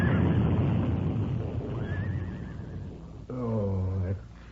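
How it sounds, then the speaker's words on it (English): A radio-drama horse, rearing and backing up as a buckboard wagon overturns on a ridge, gives loud whinnies that rise and fall, with a strong final neigh near the end. "Oh, that fool horse. The way he reared and backed up."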